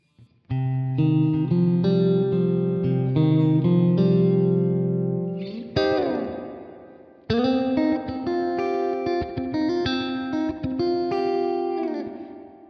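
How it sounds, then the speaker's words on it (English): Sustained electric guitar chords ring out drenched in a splashy, twangy spring reverb effect from a multi-effects unit, with a short gap before the chords resume and decay. "Here we have a spring reverb."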